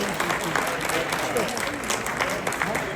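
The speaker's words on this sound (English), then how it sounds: "Can we also give a round of applause to all the staff of the Queensborough President's Office" Steady crowd applause fills a hall at the 2025 Queens Borough President's Lunar New Year celebration in New York, with a voice talking faintly underneath the clapping.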